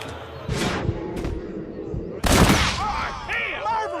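Gunfire in a Western shootout in the video game Red Dead Redemption: a few sharp, loud shot bursts over ongoing background action, with a voice speaking at the end.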